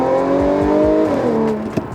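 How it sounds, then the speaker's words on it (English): Tuned Audi S4 engine revving hard under acceleration, loud and close, with a steady rising harmonic whine that drops as the gear shifts near the end. "It revs all the way up."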